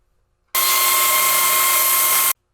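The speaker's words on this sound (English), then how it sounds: "I use my table saw and my miter fence to make this cut" A table saw with a miter fence rips through a cherry board in one loud, steady burst of about two seconds, with a high whine. Quiet silence comes before and after the cut.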